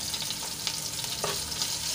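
Green chillies and crushed ginger sauté in hot oil with a soft, continuous sizzle and a few brief crackles, fairly quiet and with no talking.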